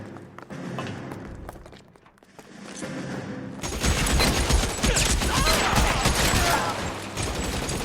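Gunfire in the L.A. Noire video game: after a quieter stretch with scattered thumps, a dense, loud burst of rapid shots and impacts takes over and continues, fairly close, with faint voices mixed in.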